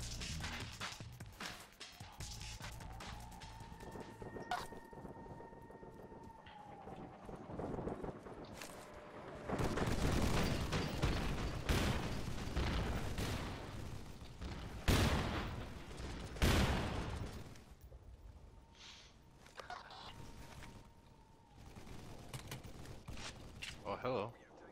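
Video game gunfire in AFF Patch 4, bursts of shots and rapid fusillades over wind and vehicle noise, rising loud around the middle and fading again, with a voice talking at times.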